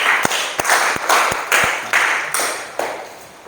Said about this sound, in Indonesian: Buat tepuk tangan lu buat teman kita kelompok 1